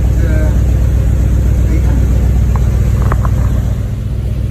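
A car engine idles steadily at around 800 rpm, a loud, close, continuous low rumble with no change in pitch, while a voice speaks briefly over it.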